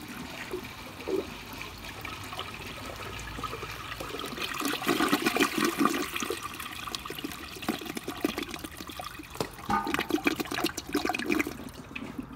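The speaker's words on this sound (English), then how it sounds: "Wow, long flush." A 1956 or 1957 Standard compact toilet flushes in one long, steady rush of water that swells in the middle and trails into trickling refill, close by and alone.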